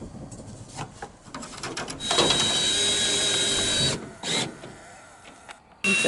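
A power drill drives screws into a Tuftex roof panel on a reclaimed window and wood greenhouse, one long steady whir up close, followed by a shorter burst and a brief final spin.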